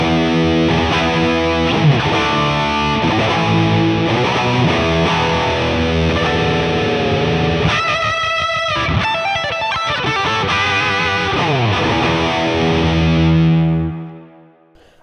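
An electric guitar runs through an Affordaboard Neon Overdrive pedal with the gain maxed, giving a thick, heavily distorted sound. Sustained chords and riffs play continuously, with a choppy burst partway through and the last chord ringing out and fading.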